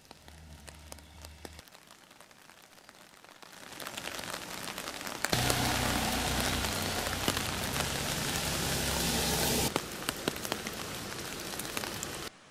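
Heavy rain pours down at the Castlereagh Reservoir in Sri Lanka, a dense hiss of drops on surfaces that starts moderate, grows into a loud sustained downpour, then eases somewhat toward the end, with no one speaking.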